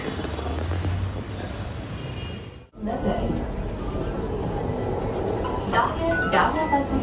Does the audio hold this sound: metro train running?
yes